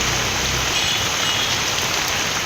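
Moderate rain falls for over an hour around Erode, a dense, even hiss of drops drumming on surfaces, with the faint rumble of passing traffic beneath.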